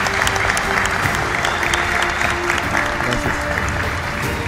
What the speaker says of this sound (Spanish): un aplauso grande para este joven